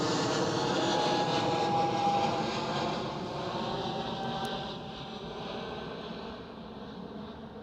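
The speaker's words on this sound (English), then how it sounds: "that was an SAS Airbus A320" An SAS Airbus A320 jet climbs out after departure from Amsterdam Schiphol airport, a steady broad engine roar that slowly eases as the aircraft gains height and distance.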